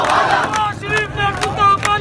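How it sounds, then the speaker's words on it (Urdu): Loud crowd in Pakistan's National Assembly chants slogans in rhythmic, repeated shouted phrases, a dense mass of voices rising and falling with a few sharper cries cutting through. "نعرے بازی ہو رہی ہے۔"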